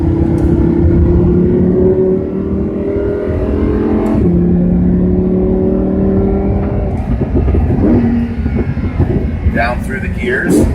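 A car in fourth gear accelerates downhill on a track, its engine droning loud and close with a steady rising tone, dropping briefly at a shift, then a rougher rumble toward the end.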